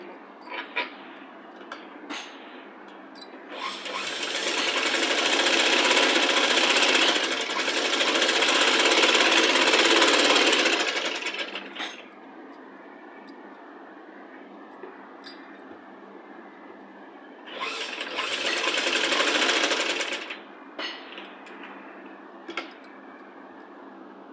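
Sewing machine stitching a child's Punjabi dress top, running in two sustained bursts, the first long and loud, the second shorter, with quiet fabric handling and clicks in between.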